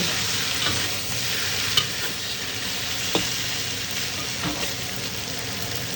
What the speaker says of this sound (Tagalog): Parang meron sa mantika, inistin ko lang yung talong.